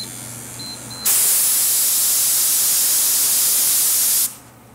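Water spray at about 18 PSI for hydro dipping, activating a heavily inked film after a one-minute soak in 90-degree water; a loud, steady hiss cuts in abruptly, holds for about three seconds, then stops sharply.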